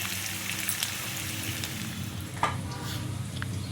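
Egg curry sizzling and frying in a pan, a steady close crackle with a brief sharper clink or stir partway through, no voices.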